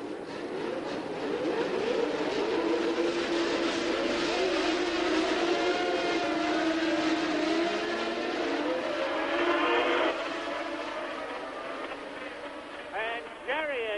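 Formula One race cars at the Paul Ricard circuit scream past with high, sweeping engine whines that rise and fall, loud and continuous under a commentator's voice.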